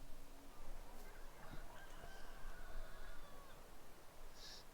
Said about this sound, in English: It always sounds like the chickens are screaming people.